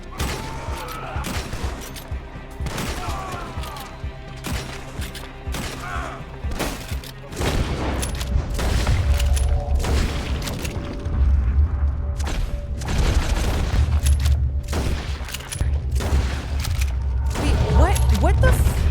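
Bursts of gunfire from a video game crack and boom repeatedly, rapid shots on and off over a low steady drone, while a few people talk and react between them.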